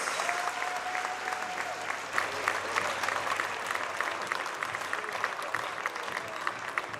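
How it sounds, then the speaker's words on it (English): Crowd in a school gym applauding seniors and their parents on basketball senior night, steady sustained clapping across the whole stretch at moderate level, with some faint voices and cheers mixed in. "put your hands together for the seniors and their parents, the class of 2026."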